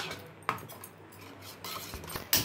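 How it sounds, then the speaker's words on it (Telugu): A utensil clinks against a bowl while salt and chili powder are stirred into eggs for an omelette, giving a few sharp taps and light scraping that sound close and fairly quiet. "ఉప్పు కారం కలిసే వరకు కలుపుకోవాలి"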